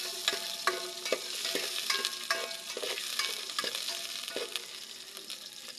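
Onions sauté in a hot pan, a close steady sizzle broken by frequent clinks and scrapes of a spatula stirring against the metal, irregular and busy throughout with no talking.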